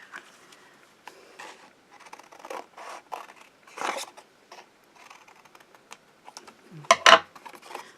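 Scissors cutting out a paper sentiment for a mixed media art tag, close, with repeated small snips and crisp rustles that end in a louder sharp cut.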